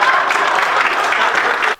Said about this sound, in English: that's where I keep the applause key